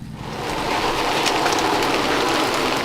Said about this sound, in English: Getting wet in the rain.